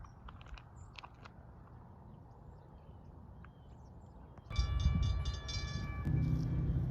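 CSX freight train rolling through a diamond crossing where two subdivisions meet, a low steady rumble that jumps louder as wheels clatter over the crossing, with squealing metallic tones and humming engines close by.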